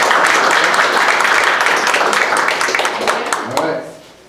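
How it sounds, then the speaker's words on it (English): Audience applause welcoming a guest speaker at a historical society evening talk, a dense, loud wash of clapping that holds steady before tapering off near the end. "please help me in giving him a round of applause"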